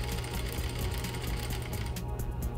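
Sewing machine basting a fabric sleeve, a rapid steady mechanical stitching rattle close up that runs continuously and eases slightly near the end.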